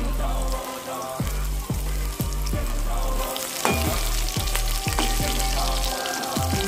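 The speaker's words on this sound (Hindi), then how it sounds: "ठीक, अब ये इसको थोड़ा सा भुनेंगे, ज़्यादा नहीं" Garlic and chilli sizzle in a pan for street-style veg chowmein, a continuous close crackle punctuated by regular clanking strokes of a spatula stirring and scraping.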